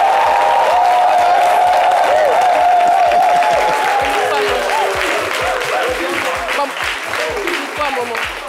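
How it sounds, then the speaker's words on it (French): A crowd applauds and cheers for a performer's mother at a midday show, dense and loud throughout, with sung or spoken voices layered over the clapping. "Applaudissez pour ma maman."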